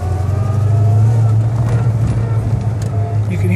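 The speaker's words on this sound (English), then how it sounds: "You can hear those gears whining" A 1971 Pontiac GTO HO's steady engine drone with a sustained whine from the Muncie M22 transmission gears, continuous and fairly loud throughout during a test drive, with faint voices in the background.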